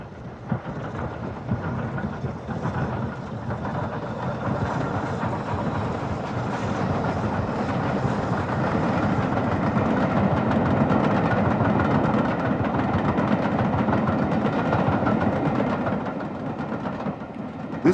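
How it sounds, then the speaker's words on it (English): Evening Star, the final British Railways 9F steam locomotive and the last steam engine built at Swindon in 1960, runs on an excursion from Scarborough to York, giving a loud, continuous rumbling roar. "The final 9F, also preserved directly out of service, is Evening Star, seen here on an excursion from Scarborough to York."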